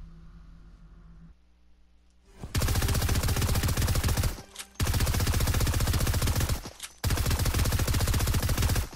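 Rapid-fire gun in Fortnite rattles off three long, loud automatic bursts of shots, separated by brief gaps, after a quiet stretch of faint game sound at the start.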